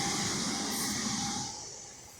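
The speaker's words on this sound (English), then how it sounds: "off goes the train, in its merry way" An electric train pulls away from Longbridge railway station on an autumn day, a steady broad hum and rumble with a high electrical whine, loud at first and then easing slightly as it departs.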